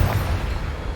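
A Confringo spell in Hogwarts Legacy goes off with a loud, low booming blast that rolls on heavily for about a second, with no talk over it.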